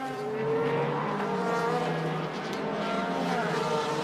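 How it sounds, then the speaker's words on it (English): A black DTM touring race car brakes very hard in a 2008 season race, engine note dropping under steady tire squeal as the car nears and runs past, loud with a constant roar. "There's the black car, on the brakes very hard."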